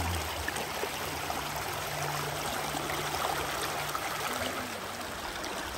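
Steady, full rush of a forest stream in Bà Rịa–Vũng Tàu, Vietnam, flowing continuously and close by with no voices over it.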